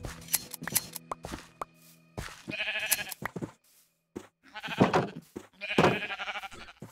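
Sheep bleating in the Minecraft video game, several short wavering bleats scattered among clicks and block sounds, fairly close and without talk.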